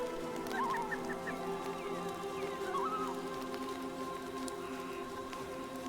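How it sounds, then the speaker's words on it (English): Chickens in a coop in the medieval life-sim game Mirthwood give a few faint clucks and short calls over a steady, humming ambient background. "These are the chickens that are in his coop."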